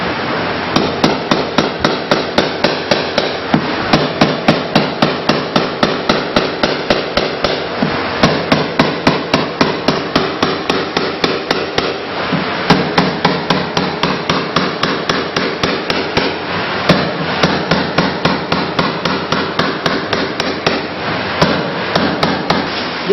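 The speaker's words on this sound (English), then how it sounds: "is hit by the hammer" A hammer striking a texture tool onto white metal cladding, producing sharp metallic blows in a fast, steady rhythm of repeated strikes with brief pauses, loud and close.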